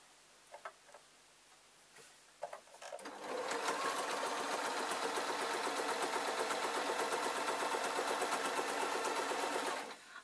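A sewing machine stitches across waistcoat fabric in a fast continuous mechanical whir after a few soft clicks and handling sounds, steady and close for several seconds.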